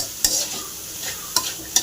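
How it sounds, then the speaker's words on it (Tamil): Cauliflower fries in a pan while a spoon stirs it, giving a soft steady sizzle broken by three sharp scraping clinks. "அதையும் போட்டு நல்லா ஒரு கலக்கிங்க"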